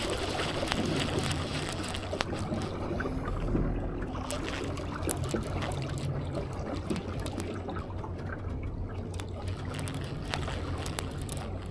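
A boat's trolling motor hums steadily under lapping water throughout, with faint voices occasionally audible in the background.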